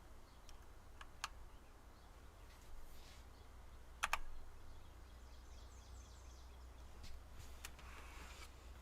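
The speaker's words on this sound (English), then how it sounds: "I apologize if the clacking of my keyboard is relatively loud" A computer keyboard clacks as someone types in scattered bursts, with a sharper cluster of keystrokes partway through, all fairly quiet against a low steady hum.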